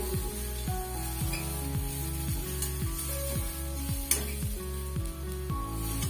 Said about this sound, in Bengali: আলুটা কিন্তু এরকম ভাজা ভাজা হয়ে যাচ্ছে